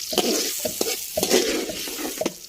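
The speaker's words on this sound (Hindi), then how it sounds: "प्याज को हम ब्राउन कर लेंगे, ज़्यादा डार्क नहीं करना, बस लाइट ब्राउन करना है" Medium-cut onions fry in a pan toward light brown, a steady close sizzle broken by repeated stirring scrapes and clinks through the whole stretch, with no talking.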